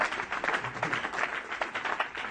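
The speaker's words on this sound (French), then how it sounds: "Acclamons du Seigneur." A church congregation applauding in worship, a dense steady wash of many hands clapping together, fairly close and continuous for about two seconds with no voices standing out.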